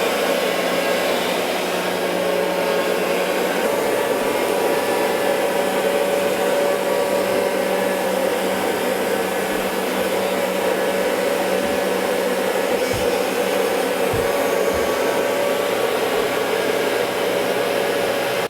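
A Bissell carpet cleaner works over a rug with OxiClean formula, giving a steady, loud motor whine with a constant hum that runs unbroken throughout, no talking.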